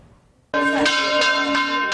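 Church bells of Saint-Georges church in Beirut ring out loud and close after a brief quiet moment, with several clanging strikes whose rich metallic tones hum and overlap.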